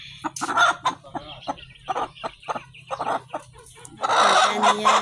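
A live chicken bought by a family clucks and squawks in a string of close, loud calls, with a louder, denser burst of agitated cackling at the end.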